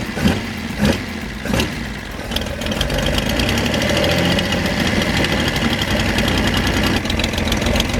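A carbureted car engine with its choke removed, running too rich, coughs in a few uneven bursts and then settles into a loud, close, lumpy idle with a knocking, irregular pulse throughout.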